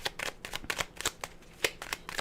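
Tarot cards being shuffled up close: a quick run of crisp, papery riffles and slaps, irregular but continuous for a couple of seconds, no voices.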